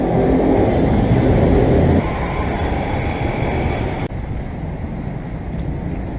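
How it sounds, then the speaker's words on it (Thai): A BTS Skytrain at Phrom Phong station in Bangkok, a loud steady rumble and roar of the train that drops down in level twice as it moves off. "ตอนนี้ถึง สถานีรถไฟ BTS พร้อมพงแล้วนะครับ"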